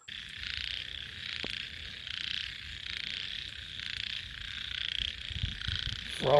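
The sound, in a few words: frogs croaking outdoors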